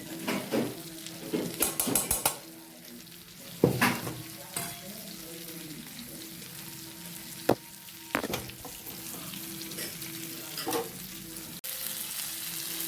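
Whole chilapi fish sizzling and frying in a pan, a steady crackling hiss with several louder bursts of spattering and occasional scrapes of stirring, with no voices.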